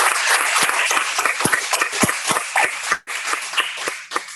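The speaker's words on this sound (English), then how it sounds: "Let's give them all a round of applause" A graduation audience at a licensed practical nursing ceremony applauds. Dense, sharp claps overlap in a lively, uneven patter, with a brief dip near the end before the clapping resumes.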